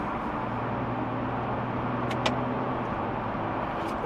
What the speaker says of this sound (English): paddle shifters are pretty responsive